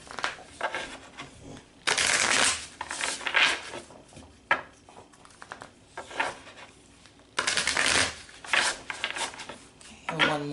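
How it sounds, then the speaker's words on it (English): Tarot cards being shuffled in several bursts of riffling and rustling, close up, with softer handling noises between. "Okay, one more shuffle."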